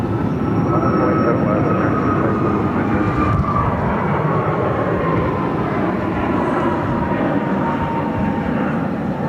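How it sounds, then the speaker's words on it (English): An American Airlines A321-200 jet departs from Phoenix airport, its broad engine roar steady and loud throughout, with a faint high whine drifting down as it climbs away. "It's American Flight 2059 headed to Boston on an A321-200"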